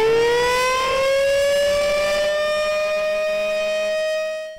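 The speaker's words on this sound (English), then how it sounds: "It's a sound that can save lives, but tornado sirens also cost money." A civil defense tornado warning siren wails loud and alone, holding one steady, slightly rising tone before it starts to fade at the end.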